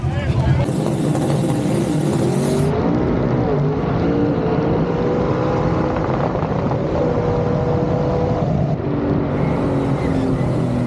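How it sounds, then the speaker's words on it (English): A drag race car launches down the track with violent tire shake at the start, its engine roaring loud and close, pitch climbing steadily as it pulls away over about ten seconds. "The car had violent tire shake on the lead, but once it actually gathered it up about 100 foot out, the car rolled on the big end"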